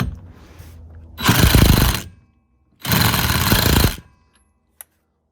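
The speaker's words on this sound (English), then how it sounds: "Grab our impact, which you should never tighten things up with an impact, but I'm dumb." An impact wrench hammers a nylon lock nut onto a quick-release steering wheel hub in two loud, close, rattling bursts of about a second each, with a short pause between them and a faint click afterward.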